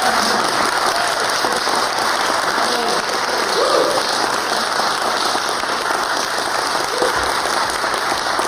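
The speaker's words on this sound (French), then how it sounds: "Les gens applaudissent. Mais vraiment, ils applaudissent." Sustained audience applause at the end of a musical piece in a performance hall, a dense steady roar of many hands clapping, loud and close, with no talk over it.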